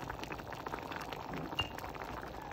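Masoor daal simmers in a pot on the stove, giving off a faint, steady bubbling and soft liquid patter with an occasional small clink.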